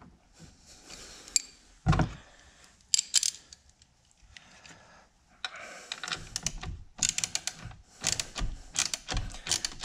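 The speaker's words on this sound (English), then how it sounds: "now we're just going to go ahead and tighten it back up" Wrench tightening a battery terminal clamp on a 2017 Mazda CX-5: bursts of close metallic clicking and ratcheting, in short irregular clusters separated by pauses.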